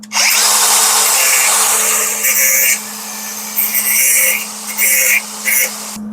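A yellow Milwaukee angle grinder works over a metal surface to clean it before welding. The whine is loud and close, runs steadily at first, then cuts in and out in short bursts as the disc touches down and lifts off.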